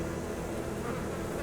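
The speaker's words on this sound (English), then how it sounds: "When an angry bee finally stings," Angry wild killer bees swarm at a hive in Arizona, giving a steady, dense, continuous buzzing drone with no pauses, moderately loud and close.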